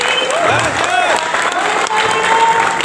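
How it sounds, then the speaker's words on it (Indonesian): An audience claps steadily at a business testimonial event for Melia Sehat Sejahtera, with the applause running throughout beneath an announcer's amplified voice. "Berikan aplaus kepada jajaran founder Bidang Komite Bapak Boy Mati."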